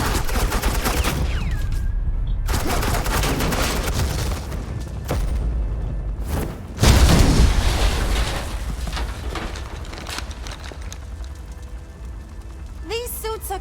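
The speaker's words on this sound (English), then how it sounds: "Suppressing fire." Video game gunfire in a Batman game with Harley Quinn: dense bursts of automatic shots and booms run nearly throughout, loud and continuous, with a brief lull midway before heavier fire resumes, under game character voices.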